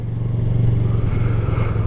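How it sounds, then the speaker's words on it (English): Motorcycle engine revving while the bike coasts in traffic with the clutch slightly let out, a loud close low throb with a steady rumble and a faint rise in pitch, no voices. "I'm revving the throttle, letting off the clutch just a little bit."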